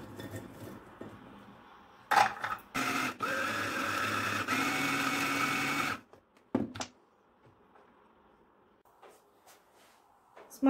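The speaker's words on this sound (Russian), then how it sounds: "Буду пропускать, ну, измельчать блендером." A blender grinding walnuts: a loud, steady whirring motor runs for several seconds amid clattering and rattling, then stops, leaving faint kitchen noise and a few knocks.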